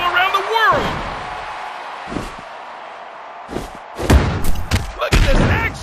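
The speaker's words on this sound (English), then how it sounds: "Buckle bomb! That'll be heard all around the world!" A buckle bomb slam in the WWE Mayhem video game lands as a few heavy thuds and booming impacts, with an excited commentator talking over them.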